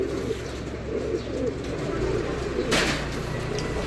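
Racing pigeon cooing steadily at its loft after a training flight from General Luna, low soft coos continuing throughout with outdoor background noise and people talking nearby.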